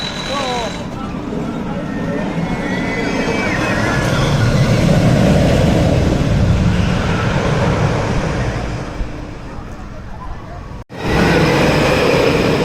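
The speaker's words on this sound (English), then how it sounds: "Here it is, a Vekoma wooden coaster with gravity group trains." A Vekoma wooden roller coaster with Gravity Group trains, the Thundercoaster at Tusenfryd amusement park, rumbles past nearby with a swelling, rough roar that builds, holds and then fades, over outdoor park ambience.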